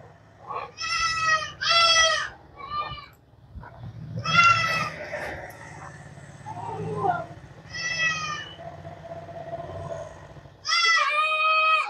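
Several goats bleat loudly in bursts at feeding time, some overlapping, over a steady low rumble from a motorized forage chopper and background noise.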